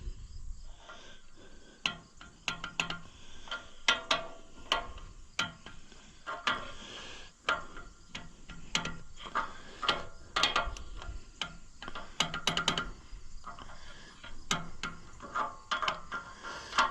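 A wrench works on the valve adjusters of an Oliver 550 tractor engine, giving a faint run of irregular metallic clicks and ratcheting ticks close by with no talk.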